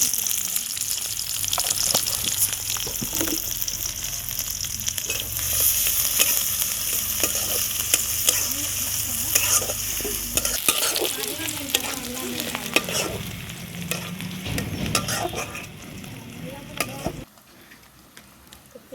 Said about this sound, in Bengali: তো কয়েকটা জিরা দিলাম